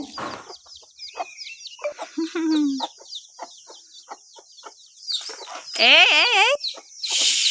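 Hens and small chicks cluck and cheep close at hand, with a steady run of short peeps broken by louder clucking bursts and a rising, warbling call near the end.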